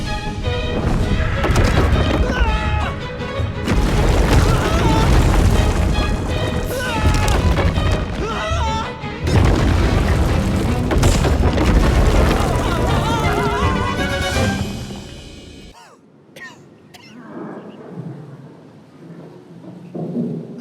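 A bomb explosion in the video game Little Orpheus comes through as a long, heavy roaring rumble with booming surges for about fifteen seconds, then cuts off into a much quieter tail with faint thuds.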